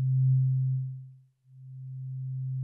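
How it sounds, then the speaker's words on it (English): Pure synthesizer sine wave shaped by an amplitude envelope: a low steady tone fades out, dips to silence, then swells back gradually with a slow attack, heard alone with no talk. "you will hear that I just have this sine wave"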